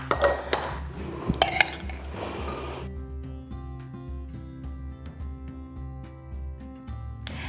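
Sweet corn being spooned into a pint canning jar, with a few sharp glass and metal clinks and scraping at the start, then a ringing, settling tail of faint tones.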